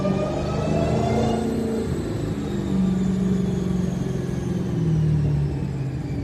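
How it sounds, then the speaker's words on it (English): Supercharger blower on a Dodge Demon 170 engine running on 55% ethanol flex fuel, a loud, close, sustained whine and rumble that rises and falls with revs. "Oh, that blower sounds so good for the feedback, man."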